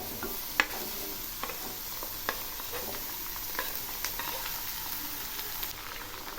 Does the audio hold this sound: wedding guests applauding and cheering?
no